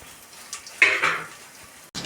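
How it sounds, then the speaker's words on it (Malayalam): Coconut pieces sizzle in hot oil with mustard seeds for a bone-meat curry served with dried tapioca, a sharp burst of frying with a clink of a utensil near the start, fading slightly before a final crackle. "കടുക് കൂട്ടി കഴിയുമ്പോൾ കുറച്ച് തേങ്ങാക്കൊത്ത് ഇടുന്നു"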